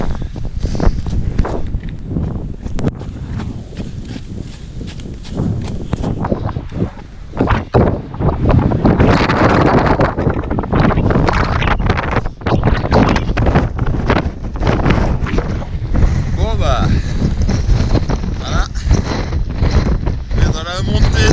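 Strong, cold wind buffets the microphone during a mountain trail race, a constant roaring rumble, loud and steady throughout, with occasional footsteps and a voice faintly in the mix.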